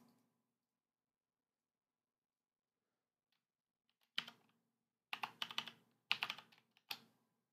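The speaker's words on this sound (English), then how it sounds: "You can hear what I'm typing," Close computer keyboard typing comes in several quick bursts of clicking keystrokes after a few seconds of near silence. The keys are crisp and fairly quiet, with short pauses between the flurries.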